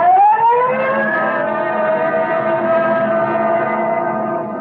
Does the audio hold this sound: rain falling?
no